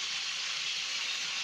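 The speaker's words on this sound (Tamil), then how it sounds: "இப்போ பாருங்கள், தண்ணி நல்லா கொதிக்குது." A pot of water for chicken biryani boils hard, giving a steady, loud bubbling hiss close up with no talking.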